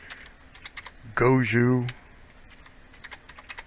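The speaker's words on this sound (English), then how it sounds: "So I clicked on that, and I just typed in" A computer keyboard clatters with quick, close keystrokes throughout, while a voice briefly says a word partway through.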